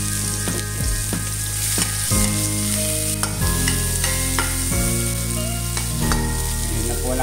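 Onion and garlic sautéing in a pan, a steady loud sizzle with repeated scraping stirs and clinks of a utensil against the pan throughout, with no talking.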